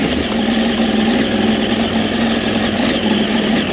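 A KTM 890 Adventure R motorcycle engine runs on a rocky road, a loud, steady mechanical drone with a strong low hum. Rough broadband rumble and wind sit over it throughout.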